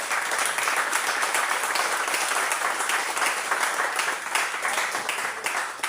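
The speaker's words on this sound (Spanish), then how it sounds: "Aplauda al Señor, ya que querían aplaudir." A church congregation applauds loudly and steadily, a dense wash of clapping hands that carries on without a break for several seconds with no voices over it.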